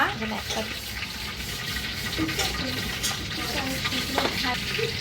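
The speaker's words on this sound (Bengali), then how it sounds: "আমার ভাই আর ভাইয়ের বউ দুজনে মিলে রান্না করতেছে হচ্ছে এই বিফ এই যে অনেকগুলা রসুন দিয়ে" Beef cooked with lots of whole garlic cloves fries and is stirred in a pot, with a steady sizzle and scraping stirs close by while people talk underneath.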